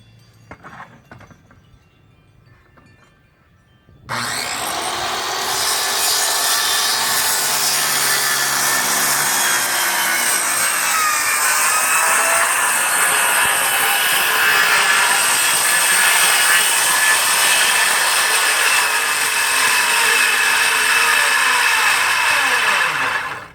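A power saw cuts wood flooring boards outdoors on a tiny-home deck, starting after a few quiet seconds with a loud, steady whining rasp that holds without a break for nearly twenty seconds before cutting off.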